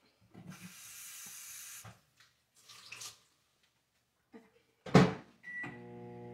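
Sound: microwave oven melting gelatin

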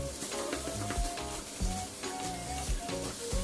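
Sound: stir-frying seasoned rice in a pan

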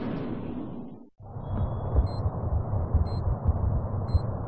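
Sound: wall mine sound in Splinter Cell: Double Agent video game

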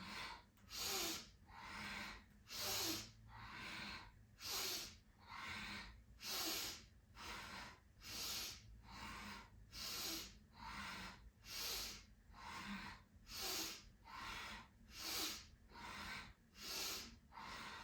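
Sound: breathing in and out during a yoga breathing exercise

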